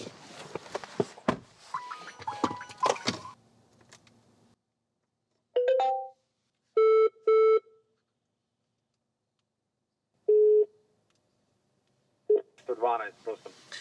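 Car eCall emergency SOS call connecting: after talk, a few separate electronic tones sound, including a paired beep, then a single tone and more talk, with silent gaps between them.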